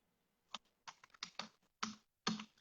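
Someone typing on a computer keyboard: clusters of crisp, close key clicks in uneven bursts with short pauses between them, clear against a quiet background.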